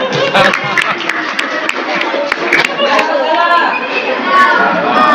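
Children clapping together after a quiz answer during an Islamic talk, a dense, steady patter of applause mixed with chatter and voices throughout.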